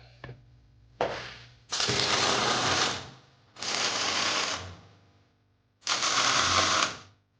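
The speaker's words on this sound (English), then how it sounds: "Let's go ahead and weld these suckers up." Welding on parts for a Jeep ZJ front axle, with three long buzzing, crackling bursts of a few seconds each, separated by short pauses, loud and close with no talk.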